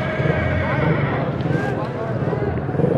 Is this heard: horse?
yes